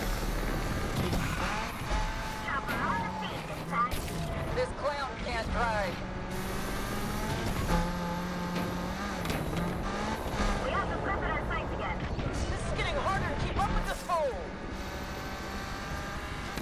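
A race car with a punctured tire in Need for Speed Unbound roars steadily, its engine note shifting with tire squeal and skidding, loud and continuous throughout with a voice talking over it.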